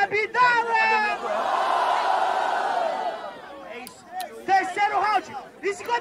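Crowd at a Brazilian rap battle in Guarulhos cheering and shouting in a loud, sustained roar of whoops and yells, framed by a host's amplified voice before and after the swell.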